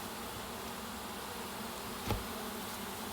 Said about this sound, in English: I'm going to just leave this box on here and let those bees slowly work their way in.